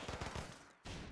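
A suppressed Benelli M4 shotgun fires in the video game Running with Rifles: a rapid cluster of muffled blasts, a brief gap, then more, loud and dense throughout.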